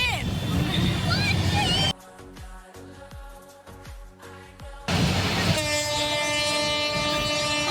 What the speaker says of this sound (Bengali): হঠাৎ করে ট্রেনের দেখা মিলল